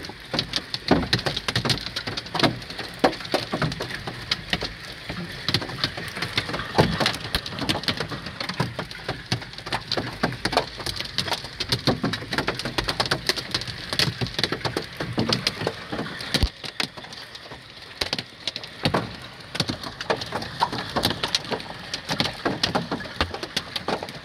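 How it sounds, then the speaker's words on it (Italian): Hailstones pelting down during a storm in September 2022, a dense, loud, continuous rattle of sharp clattering impacts on hard surfaces, steady throughout with no voices. "Questo è grandine"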